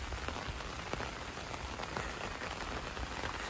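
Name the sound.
rain falling in a village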